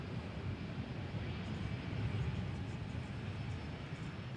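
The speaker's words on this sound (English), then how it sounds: "And this is one of American's older aircraft. 26 years old as of March. An Airbus A320." A 26-year-old American Airlines Airbus A320 at DFW Airport, a faint, steady engine drone at a distance, even and unbroken with no talk.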